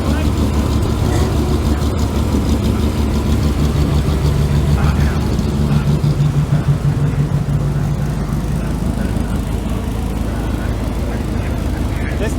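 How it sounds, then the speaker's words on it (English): A Porsche engine with lumpy cams runs at the Shelsley Walsh hillclimb, a loud, continuous uneven rumble that fills the scene while people talk nearby. "Listen, have you heard the Porsche? What's that? That has some lumpy cams in it."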